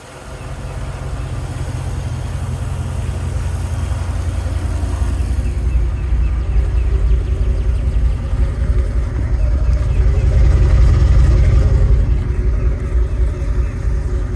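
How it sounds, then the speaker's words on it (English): A stock Gen V engine swapped into a Chevrolet C10 truck idles with a steady, deep, even rumble that stays loud and close throughout. "look at that idle, just dead steady"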